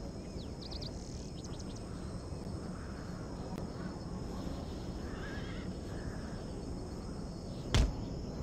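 Horses of a horse artillery troop whinny and neigh, with short calls early on and a louder one near the end over a constant outdoor rumble. No talk is heard.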